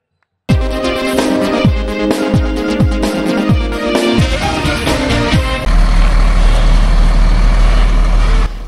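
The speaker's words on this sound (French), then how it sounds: "Les véhicules à remorque transportant le ciment de la société de cimenterie Force Park occupent jour et nuit le domaine public" Trailer trucks carrying cement for a cement company roll past on a public road, a loud diesel roar with repeated gear-shift swells, then a steady heavy engine drone close by.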